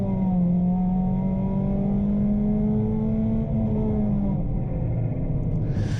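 A Ford Puma race car engine at Cadwell Park revs up under acceleration, falters and bogs down, then picks up again. A loud, continuous in-car drone holds throughout, with a rough, wavering pitch.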